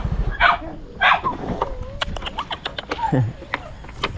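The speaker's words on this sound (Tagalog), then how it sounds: "Mga aso." Several dogs bark in short bursts at mid distance, with a few yips and whines, over background voices and a low rumble.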